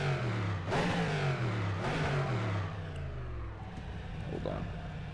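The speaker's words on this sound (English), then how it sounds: "So, engine revs." Race car engine in the video game rFactor 2 revving repeatedly, rising and falling in pitch through several blips with a steady droning idle between them, loud and close with no talking.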